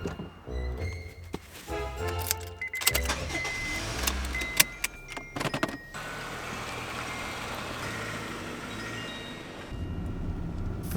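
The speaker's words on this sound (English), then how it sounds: "Fuki travels to work by car," A car in Japan starts off and drives a short commute, beginning with thunks, beeps and handling noises up close before a steady engine and road hum settles in, no one speaking.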